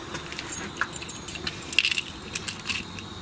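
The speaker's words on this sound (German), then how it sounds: "Mein Schlüsselbund mit dem kleinen Classic und der Nightcore" A keyring carrying a small Classic pocket knife and a Nitecore light jangles close up in short metallic rattles and clinks, with no talk.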